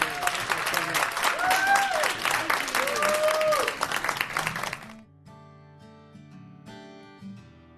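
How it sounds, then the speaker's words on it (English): Applause at a foster parent of the year awards program, a dense crowd clapping loudly with voices whooping over it for about five seconds, then cutting off to quiet music. "All right, guys, one last round of applause."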